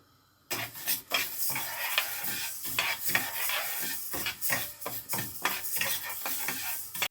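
A pan sits silent for half a second, then fenugreek seeds are lightly dry-roasted in it. A spatula scrapes and stirs them in quick, repeated strokes against the metal under a faint sizzle; no one speaks.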